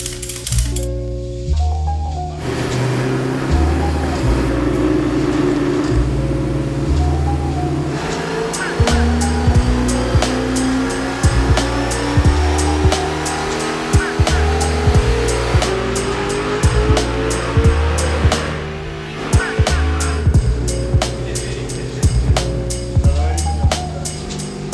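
A Nissan Skyline engine running hard on a dyno, a loud sustained roar with rising revs that climb repeatedly, punctuated by sharp clicks and bangs, with no talk over it.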